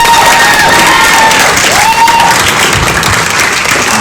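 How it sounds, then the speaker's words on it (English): An audience at a student assembly applauds and cheers, with loud sustained clapping and crowd noise carrying on evenly throughout, a few whistles or shouts rising above the clapping. "So I think Felix deserves a round of applause as well."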